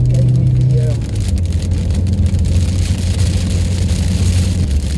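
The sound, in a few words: heavy rain on a truck while driving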